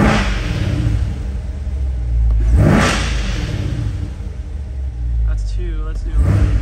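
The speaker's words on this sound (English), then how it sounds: "I get a couple revs for you" A 2021 Corvette C8 Z51 2LT's engine is revved from idle in a few separate bursts, each a deep, loud rise and fall, with the low idle rumble continuing between them.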